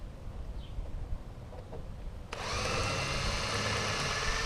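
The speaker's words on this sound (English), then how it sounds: "And my drill is of course dying." A cordless drill with a dying battery whirs steadily and loudly after a quieter stretch of ambient noise, its motor tone sounding strained and uneven, while driving screws on a boat transom.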